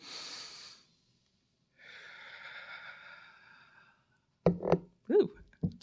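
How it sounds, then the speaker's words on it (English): An audience at a live reading takes two slow, deep breaths together, each a soft airy inhale and exhale, followed by brief louder noises close to the microphone. "let's do it. Two deep breaths."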